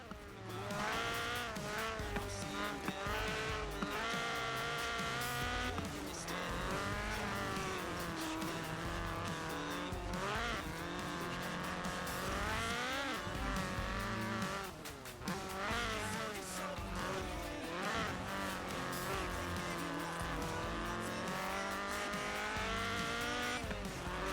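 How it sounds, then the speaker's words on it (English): A Ford Escort RS1800 rally car with a fuel-injected 1790cc Cosworth BDE engine revs hard in the Forza Horizon 4 racing game, engine note rising and falling through gear changes with occasional tire squeal, loud and continuous. "This was a car designed explicitly for rallying, with a powerful fuel-injected 1790cc Cosworth BDE engine."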